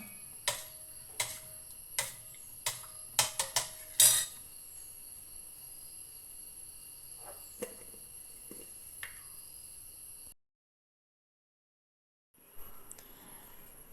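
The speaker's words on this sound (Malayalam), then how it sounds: "നമ്മൾ ഇത് നല്ലപോലെ ഇളക്കി കൊടുക്കുകയാണ്" A spoon stirs bhatura dough made from wheat flour and atta in a bowl, producing a quick series of light clinks and taps against the bowl. Quieter scraping follows, then a short silence.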